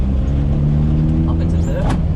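A rally car engine revs hard and shifts up through the gears on a rally course, heard close from inside the car with a steady loud drone, while people talk over it.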